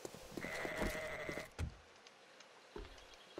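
Sheep bleat in a survival crafting video game, a clear sustained bleat in the first second and a half, followed by quieter scattered game sounds and brief thumps.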